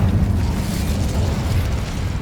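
The Incendio fire spell cast in Hogwarts Legacy gives a loud, low rumbling whoosh of flame that holds steady for a couple of seconds, close and full, with no speech.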